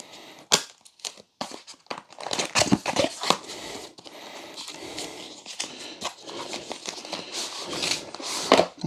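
Packaging for a DJI Pocket 3 camera is opened by hand, giving a run of sharp snaps, crinkles and tearing paper and cardboard close to the mic, irregular and fairly loud, with no talking.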